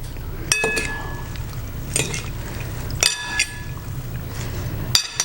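Watermelon pieces and wild blueberries stirred together in a bowl, with a few sharp clinks of a utensil against the dish spaced a second or two apart over a steady low background hum.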